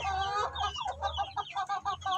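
A hen clucks in a quick run of short, throaty calls, close by and fairly loud, with a low hum underneath.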